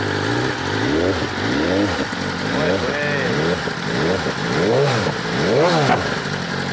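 A superbike with a long exhaust can revs high on a race track, its engine rising and falling through a string of rapid upshifts in a loud, rhythmic wail, with a voice talking over it.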